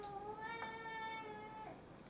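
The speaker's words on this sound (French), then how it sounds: "Oui, mon petit chat, il me fait un caprice." A cat meows in one drawn-out, rising then falling call, fairly close and clear against a quiet indoor room, with no talking over it.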